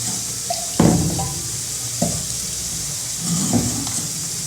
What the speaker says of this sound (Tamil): குழம்புக்கு தேவையான தண்ணி ஊற்றிடலாம்.